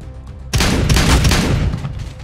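A sudden loud burst of gunfire in Counter-Strike: Global Offensive erupts after a quieter moment, with booming shots and rattling fire that trails off gradually.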